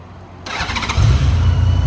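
A 2018 Honda F6C 1800cc flat-six motorcycle with keyless ignition starts up close by: a sharp crank catches at once and settles into a loud, steady, low idle.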